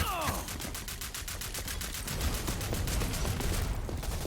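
Rapid automatic gunfire from the online shooter Rogue Company, a steady stream of evenly spaced shots that grows denser and louder toward the end, with faint talk in the background.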